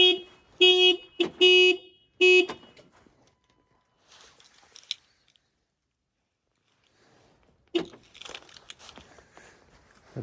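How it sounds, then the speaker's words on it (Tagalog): A car alarm sounds near a parked car on a freezing winter day in Canada, giving several loud, clipped electronic chirps in quick succession, followed by quieter rustling and a burst of handling noise. "Nag-alarm."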